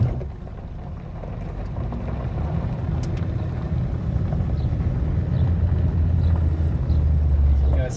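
A car drives along Main Street with a continuous low road and engine rumble heard from inside the cabin, and the rumble grows slightly heavier over the stretch.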